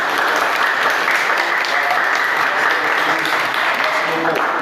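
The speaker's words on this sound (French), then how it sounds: "Donc nous devons l'applaudir, taper les mains pour l'applaudir" Sustained applause from an audience at a ceremony, dense hand clapping holding steady and loud for several seconds without a break.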